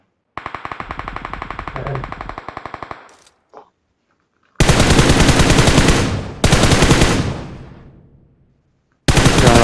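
Bursts of rapid automatic gunfire from a new gun in the mobile game BGMI on the Rondo map, loud and close: a long rattling volley, a short pause, then several heavy sustained bursts with echoing tails.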